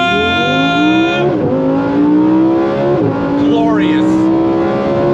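Lamborghini Huracan Sterrato V10 revving hard under full throttle, rising engine tone climbing through quick gear changes with brief dips between shifts, loud and close, with a voice talking over it.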